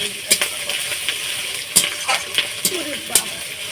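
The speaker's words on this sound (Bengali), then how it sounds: "মাংসের যে চর্বিটা ছিল যে ওটাকে কড়াইয়ের মধ্যে দিয়ে ভালো করে নাড়াচাড়া করছে" Chicken fat being stirred around a hot wok for a Bengali chicken curry, a steady close sizzle and crackle broken by sharp scraping clinks of the spatula against the metal every half second or so.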